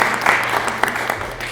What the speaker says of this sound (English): Give me a hand to clap.